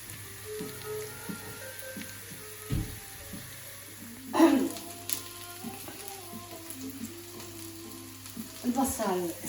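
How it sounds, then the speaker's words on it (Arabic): Onion cooks gently in a pan, a soft, fairly faint sizzle under intermittent spatula scrapes and clinks, with a few louder bursts of stirring. "On va faire cuire l'oignon."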